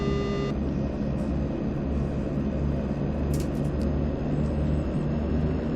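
A de Havilland Twin Otter rolls for takeoff in a flight simulator, its engines giving a steady, loud, unbroken droning rumble throughout.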